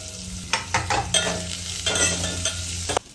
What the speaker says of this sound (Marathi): तर कांदा थोडासा परतलाय